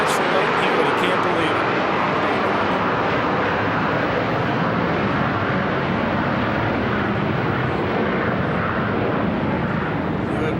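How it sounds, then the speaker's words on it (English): Airplane passing over a tennis stadium during a 2001 US Open match, a loud steady engine roar filling the whole stretch without a break. "Hewitt waiting for the plane to go over."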